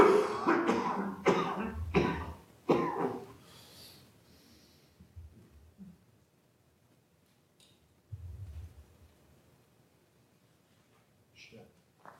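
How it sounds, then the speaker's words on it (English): A man coughing hard and coughing up blood, a burst of several harsh, wet coughs up front that fade into quieter breaths, snorts and faint rustling, with long near-silent gaps. "He coughs up a lot of blood."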